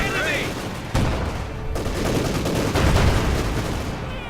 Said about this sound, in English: Field gun advancing and getting bombarded here by the Panzer IVs.